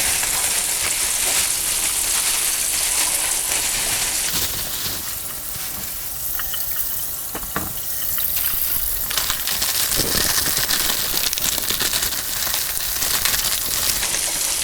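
Ice cubes tumbling from a tray into a bowl of cold tap water, a steady crackling clatter and splashing that runs throughout with a short pause in the middle.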